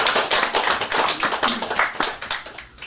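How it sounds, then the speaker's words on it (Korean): A lecture-hall audience at a qigong talk claps together, a dense burst of many hands that thins and fades over about three seconds, loud and close with no talk over it. "박수 한번 주시고."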